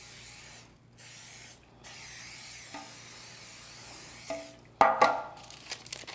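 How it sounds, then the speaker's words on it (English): Vegetable oil sprayed into a loaf pan lined with parchment for olive and ham bread: a few short hissing bursts, the strongest near the end, fairly close and alone. "We're going to spray it with a little vegetable oil all around."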